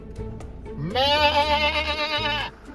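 A goat standing in the road near an African camp gives one long, wavering bleat, loud and close. It rises out of a low rumble and lasts over a second.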